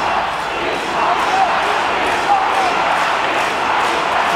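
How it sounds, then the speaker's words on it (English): Home crowd at an Italy versus South Africa rugby test match roaring steadily as a broad, continuous stadium wash, with a commentator talking over it. "the local crowd have discovered their voices"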